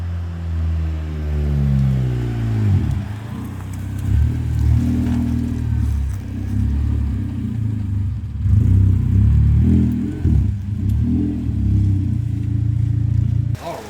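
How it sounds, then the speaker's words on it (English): A car starts and idles after a brand new Detroit Axle rack and pinion was fitted, the engine running steadily and close for several seconds with a little clatter and some faint background talk. "I'm gonna start the car."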